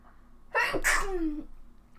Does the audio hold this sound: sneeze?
yes